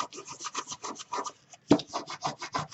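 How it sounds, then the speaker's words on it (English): A fingertip rubs firmly across an adhesive coating before peeling, making a close, steady rasping scrape in quick repeated strokes, with one louder bump partway through and no talking. "rub your finger before you peel it out"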